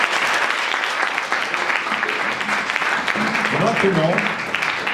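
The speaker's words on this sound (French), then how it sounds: "Bon, on peut les applaudir," Audience applause during a televised student union election debate, dense and steady throughout with voices talking over it near the end.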